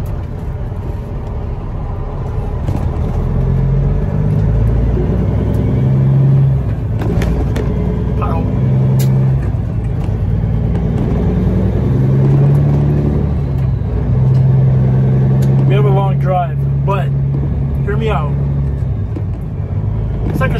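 A truck engine pulls away after being shifted into gear, its deep, steady rumble building and swelling over about twenty seconds, with someone talking throughout.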